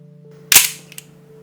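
A Double Bell Taurus PT92 replica pistol fires a gel ball, a single sharp close crack that fades quickly, followed by a faint small click.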